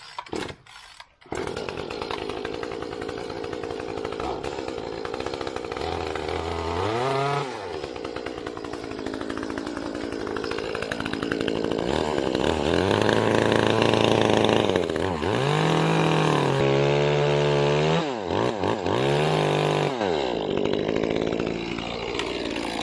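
An engine chainsaw cuts through a Kaizuka juniper hedge, its motor roaring loud and steady throughout, with the revs repeatedly dipping and climbing as the blade bites into the branches.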